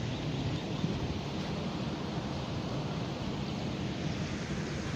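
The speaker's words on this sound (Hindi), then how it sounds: "यहाँ पे ये सारी जो है ये पानी नीचे जा रहा है और आगे जो है बहुत ज़्यादा शोर है" Rushing, foaming water pours down a dangerous village canal, a loud, steady broadband roar with no breaks, close and filling the surroundings.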